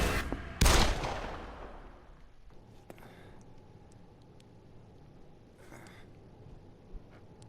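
A single loud gunshot in The Evil Within cracks near the start, then fades into a low, dim ambience with a few faint scattered knocks later on; no voices.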